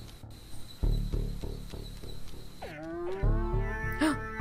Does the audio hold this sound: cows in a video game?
yes